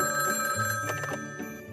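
A telephone rings at NORAD, a bright electronic bell that trills loudly and close by for a short burst, with no talking.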